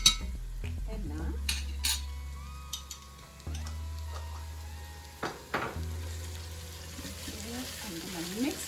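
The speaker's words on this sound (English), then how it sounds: "I'm gonna mix it in." A spoon stirring tomato paste into a pot of green grams, with scraping and clinks against the pot, a low hum underneath and someone speaking briefly.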